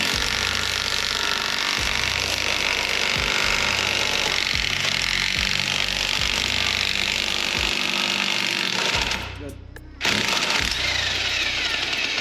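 Loud, steady rattling hammer-like pounding from a ball joint separator press forcing out a U-joint on a GM Duramax driveshaft, a pulsing beat repeating for about nine seconds, then a brief drop before the harsh noise resumes.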